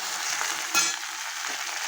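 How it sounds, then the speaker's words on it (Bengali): Sliced okra added over potato and onion already frying in a pan, a soft steady sizzle with a brief louder scrape of stirring partway through, close and without speech. "আলু পেঁয়াজ ভাজার উপরে আমি ভেন্ডি দিয়ে দিয়েছি। এবার একসঙ্গে ভালো করে নেড়ে নেবো।"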